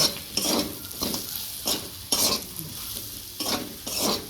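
Rhythmic scraping of a spatula stirring greens with black cumin (kalonji) in a pan, repeated every half second or so over a soft sizzle.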